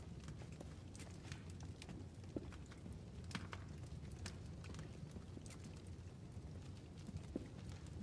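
Faint horse hoofbeats in Kingdom Come: Deliverance 2 clip-clop steadily at a walking pace, quiet and somewhat distant, over a soft ambient background with no speech.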